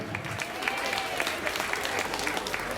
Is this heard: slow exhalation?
no